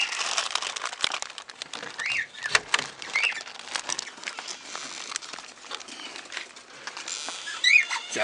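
Birds gather at a morning feeding on a cool, fresh day, with flapping wings, rustling and scattered short calls forming a busy, continuous flutter close by.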